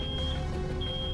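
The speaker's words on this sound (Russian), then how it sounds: "Это сигнализация!" In Road 96 an alarm gives a thin, high electronic beep that repeats twice, faint and set against a low background hum.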